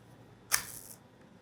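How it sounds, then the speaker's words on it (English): A film camera's shutter set to T with the lens removed opens with one sharp mechanical click, followed by a brief bright whir that dies away within half a second in a quiet room. "I'm going to set my shutter at T and open my shutter."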